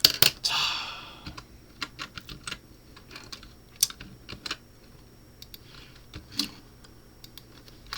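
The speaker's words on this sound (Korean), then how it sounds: "제가 타이핑이 좀 느려요" Keys on a computer keyboard are tapped one at a time in an irregular, unhurried rhythm, each click crisp and close against a low background hiss.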